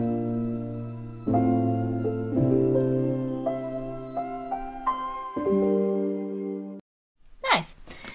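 A melody with its notes played in reversed order, same durations, as sustained tonal instrument notes stepping through a short phrase over held lower tones, clear and unaccompanied, followed by a brief noisy burst at the end.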